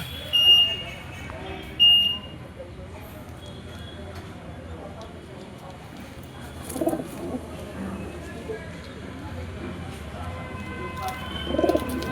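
Pigeons cooing at a pigeon shop in front of a Kali temple under a station flyover, low soft coos rising and falling over steady street background noise, with a couple of brief high beeps early on.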